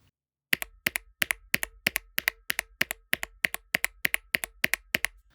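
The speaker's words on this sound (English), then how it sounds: "I hear some spring ping resonance here" A Lemokey P1 HE keyboard struck in a steady run of about seventeen sharp, close key presses, each followed by a faint metallic spring ping that rings briefly before the next stroke.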